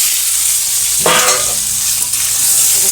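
Pre-fried potatoes go into hot oil with cumin in a village kitchen pan, giving a loud, steady, close sizzle with a sharp burst as they hit, plus stirring scrapes; no one speaks.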